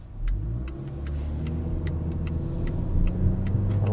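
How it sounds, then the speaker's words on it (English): A 2019 Volvo XC40 T5 AWD R-Design engine rumbles steadily from inside the cabin, with light periodic ticks and a faint rising turbo boost whine toward the end. "You just hear a lot of boost noises."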